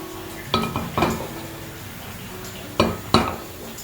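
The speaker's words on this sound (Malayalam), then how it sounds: "ഫസ്റ്റ് വേണ്ടത് നമുക്കൊരു പാൻ എടുത്ത് വയ്ക്കാം" Metal pan clanking onto a stovetop in a home kitchen while preparing Kerala-style beef pepper roast, four distinct knocks in two close pairs, fairly near with quiet room tone between.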